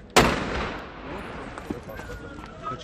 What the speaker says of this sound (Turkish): Yanan otomobilde meydana gelen patlamalar korku dolu anların yaşanmasına neden oldu.